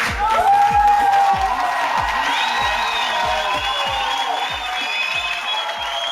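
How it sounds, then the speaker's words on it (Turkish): Audience applause for comedian Hakan Türkmen: a loud, sustained wave of clapping and cheering from a crowd, with whoops and whistles rising over the dense claps. "Hakan Türkmen için çok büyük alkış."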